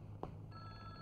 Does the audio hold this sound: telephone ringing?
yes